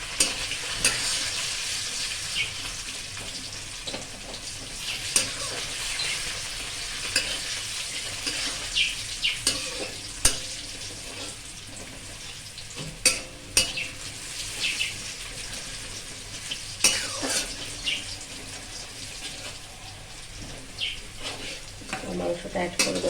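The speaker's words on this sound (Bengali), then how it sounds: "পেঁয়াজটা আর একটুখানি ভেজেই মাংসটা দিয়ে দেবো।" Onions frying and being stirred in a pan for a mutton curry, with steady crackling sizzle throughout and occasional sharper scrapes and clinks of the spoon against the pan.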